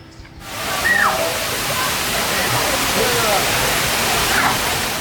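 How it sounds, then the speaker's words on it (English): Water rushes steadily through a resort lazy river channel, a constant broad wash of flowing water heard close by with light sloshing, and no speech. "the water flows through and you just sit in a tube and it takes you around"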